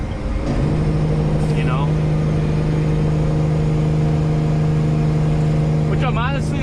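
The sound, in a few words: truck Jake engine brake with mufflers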